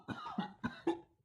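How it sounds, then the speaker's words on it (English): A robed man coughs in four rough, rapid bursts with short gaps between them, close and fairly quiet, with no other sound behind. "The robed man starts to cough as smoke trickles out of his hood."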